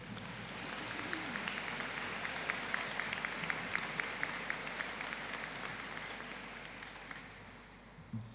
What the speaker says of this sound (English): stand for a collective round of applause